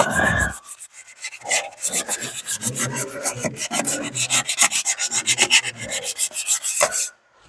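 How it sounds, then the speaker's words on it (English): A surface is scuffed by hand with rhythmic, rasping strokes, a quick series of close, evenly paced rubs after a short opening sound. "So we'll just scuff that up."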